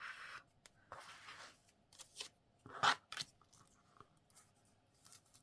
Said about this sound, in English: I'm going to just trim that.